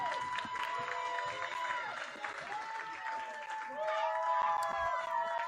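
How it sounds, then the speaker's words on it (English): Crowd noise at a school football game, the Cougars against the Skyhawks in Sultan: a steady wash of cheering and applause from a crowd, with a voice talking loudly over it throughout. "Cougars with something to cheer about."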